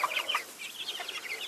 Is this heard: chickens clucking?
yes